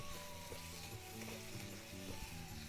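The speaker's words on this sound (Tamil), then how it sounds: "வெங்காயம் தக்காளி பழம் மிளகு உள்ளி மற்ற வெந்தயம் எல்லாம் நல்லா வதங்கி இருக்கிறது" Onion, tomato, garlic, pepper and fenugreek sautéing for a Jaffna-style prawn curry give a steady, close sizzle with stirring, under a continuous bed of tonal background music.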